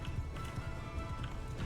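Horses gallop in a Mount & Blade II: Bannerlord battle, a steady, close drumming of many hooves running together for a couple of seconds, with no voices.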